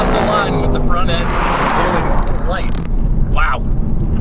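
A Ford Mustang races down a drag strip, its engine roaring loudly and continuously for a few seconds, with someone talking over the noise.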